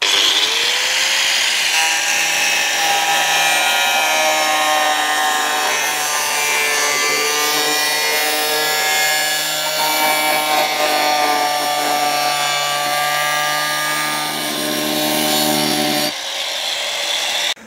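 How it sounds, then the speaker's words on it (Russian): Angle grinder cutting the lock edge of a stone-effect facade siding panel, a loud steady high whine with a sustained buzzing tone that runs for about sixteen seconds before the cut ends. "Обрезать мы будем болгаркой."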